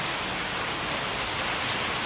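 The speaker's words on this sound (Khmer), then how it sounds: "តោះឥឡូវមេឃកំពុងតែភ្លៀងនេះ" Steady, even rainfall in the Cambodian countryside, a continuous soft hiss of drops with no pauses and no voices.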